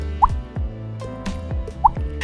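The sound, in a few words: mouth imitation of water drop sounds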